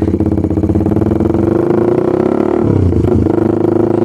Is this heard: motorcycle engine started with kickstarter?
yes